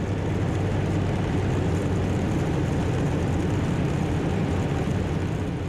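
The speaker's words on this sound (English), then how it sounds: "We're turning final, and you will see when we touch down" A light aircraft on final approach touching down, a steady loud broadband drone of engine and wind roaring continuously from inside the cockpit, with no distinct impact and no voices.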